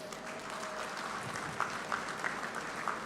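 Applause from an audience at an Andhra Pradesh event on a Google Cloud AI hub, a steady broadband wash of clapping throughout with a few sharper individual claps standing out near the end, moderately loud and with no talk over it.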